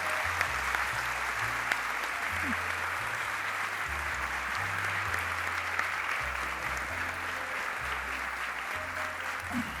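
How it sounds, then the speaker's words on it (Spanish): Long, steady applause from a large audience honouring an actor's career award, even dense clapping over a low musical tone running underneath. "yo pido un aplauso"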